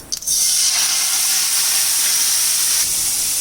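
Masala for kala chana sizzles steadily in a pan over a low flame as it is mixed, a continuous bright hiss with no talk.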